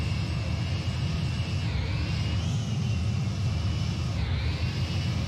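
Jet engine roar in Microsoft Flight Simulator 2020, a loud, steady whine and rumble with a high tone that dips and rises twice as the aircraft passes close by.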